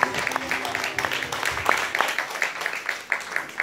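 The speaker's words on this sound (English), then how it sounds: "Let's clap for the Lord this morning." Church congregation clapping along during a Sunday morning service, a steady run of many hand claps with a busy crowd texture, fairly close and even in loudness throughout.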